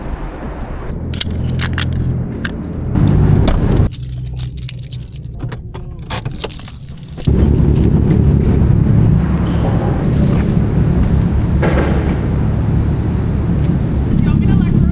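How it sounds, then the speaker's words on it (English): A car being moved at night, with jangling keys, door and handling noises, then a louder steady engine rumble as it drives, while people talk nearby. "move my car too"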